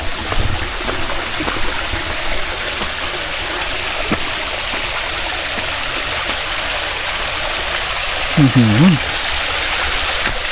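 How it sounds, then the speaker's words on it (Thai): A small waterfall at Khao Chom Phu splashing steadily as a constant rushing hiss, with a brief higher call near the end. "อ๋อมันไม่แรงเนาะโอ้น้ำตกเล็ก"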